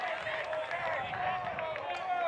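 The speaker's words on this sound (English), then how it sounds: "Boy, is this crowd into it? They've been into it since first pitch of the game. They are loud." Crowd at an American Legion baseball championship game in Alaska cheering and clapping steadily, a dense continuous roar of applause and voices filling the park.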